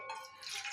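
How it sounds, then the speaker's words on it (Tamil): Faint splashing trickle of water poured into a cooking pot on a gas stove, quiet and brief, as the base for a garlic milk drink. "2 டம்ளர் தண்ணி ஊற்றிட்டேன்"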